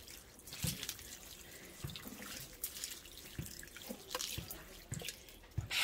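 Water poured generously onto a freshly repotted marguerite (Fairy Star) in a pot, splashing and trickling close by in uneven bursts with small drips, and no voices.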